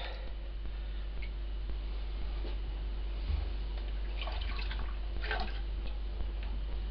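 Glaze pours and drips out of a pottery bowl in a quiet room, with scattered small drops and a low steady hum underneath.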